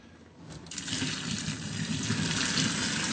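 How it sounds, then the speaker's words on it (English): Hot water drained off a pot of cooked potatoes: a loud, steady gushing pour that starts after about half a second and runs unbroken to the end, with no talk. "We're gonna drain the potatoes."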